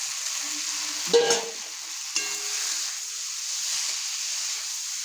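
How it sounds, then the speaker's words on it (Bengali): Steady sizzling of shrimp frying in a pan for a yam and shrimp dish, with a couple of brief clatters as pieces are stirred and turned. "ভাজা চিংড়ি মাছটা উলেটে দিয়ে দিলাম"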